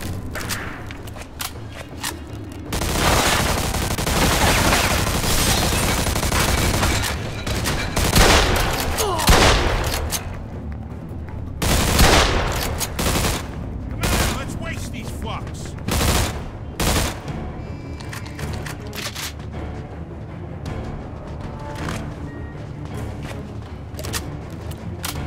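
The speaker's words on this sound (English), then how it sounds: "They're shooting at me, for Christ's sakes!" Gunfire rattles through a firefight in Mafia II Definitive Edition: dense bursts of automatic and single shots crack back and forth for most of the stretch, loud and close, with occasional voices and thuds between volleys.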